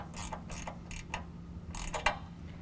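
A ratchet tightens a 10mm nut on a parking sensor in a Westin Pro-Mod front bumper on a 2019 Ram 1500. Several quick, close clicking bursts sound in an uneven rhythm over a low steady hum.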